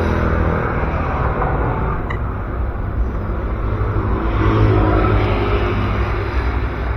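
A 1986 Honda Civic Wonder SB4 with a clean, original engine running, producing a steady, fairly loud low rumble with no break and no talking.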